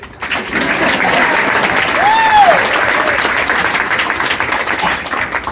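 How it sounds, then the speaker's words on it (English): An audience at a school retirement celebration applauds in a steady, dense wash of clapping lasting several seconds. "You can clap."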